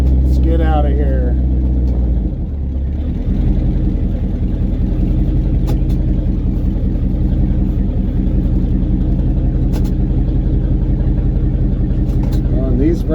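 A 1954 Cadillac with a twin-turbo, tuned port-injected engine, not yet warm, idles loudly with a steady low rumble, then pulls away as the engine note rises and falls.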